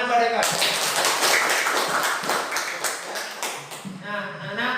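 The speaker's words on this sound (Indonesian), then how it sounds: "Tepuk tangan pada Eka" A class of schoolchildren claps together for a classmate in a primary classroom, with a burst of brisk, close clapping lasting a few seconds, framed by a teacher's voice before and after.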